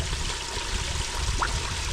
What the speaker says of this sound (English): Got some dirty water coming out of it.